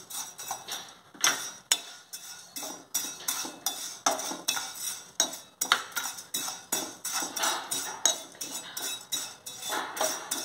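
Dry vermicelli being roasted in a pan on a gas stove for semiya dosa, giving a steady run of close, light scraping and clinking strokes from a utensil against the pan, with no talking.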